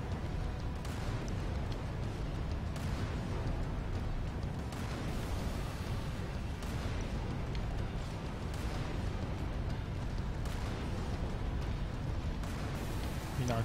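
Cannon and artillery fire in the Halo 3 video game, a dense continuous barrage of booming blasts with repeated sharper impacts every couple of seconds, loud and sustained throughout with no talking.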